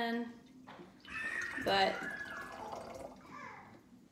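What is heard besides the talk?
water being poured into a container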